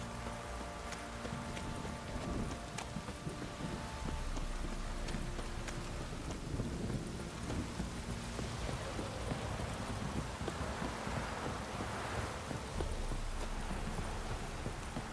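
Steady rain falls in the video game The Witcher 3: Wild Hunt, a continuous dense hiss of drops throughout, with faint hoof-like clopping and other game noises mixed underneath.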